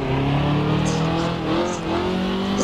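A 1950s-style Mercedes SLR 300 race car in Assetto Corsa holds a loud, steady engine drone under throttle, its pitch rising slightly as it accelerates, close and continuous.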